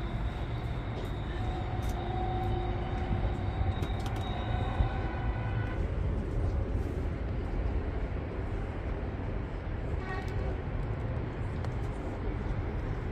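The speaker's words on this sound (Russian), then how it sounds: "Железная дорога Ватикана считается самой короткой в мире." Train on the Vatican railway, the world's shortest line, heard as a steady low rumble and rolling wheel noise with faint high squeals and clanks throughout, fairly distant and without voices.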